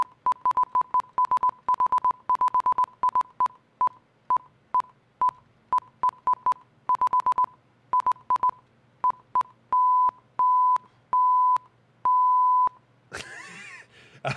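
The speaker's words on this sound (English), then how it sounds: "Say the worst thing in Morse code" Morse code beeps in Watch Dogs London: a steady single-tone beeper keying fast bursts of short dots, then several longer dashes, loud and clean, followed by a brief noisy burst at the end.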